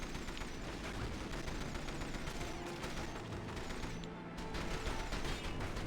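Rapid gunfire rakes pursuing boats during a chase in the 007 From Russia With Love video game, a dense, sustained clatter of shots and mechanical noise that stays loud and unbroken, with a short dip near the end.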